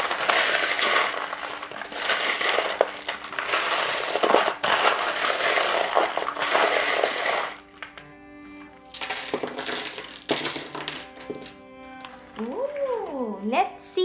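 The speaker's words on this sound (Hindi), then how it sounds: "शफल कर लेते हैं।" Tarot charms being shuffled, a dense metallic clinking and rattling for about seven seconds, followed by quieter scattered clinks under a humming voice.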